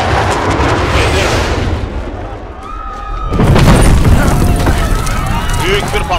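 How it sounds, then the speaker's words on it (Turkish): A large explosion rumbles in Call of Duty Modern Warfare, a loud low boom that swells midway through amid ongoing battle noise and debris, with voices heard throughout. "Büyük bir patlama oldu arkadaşlar."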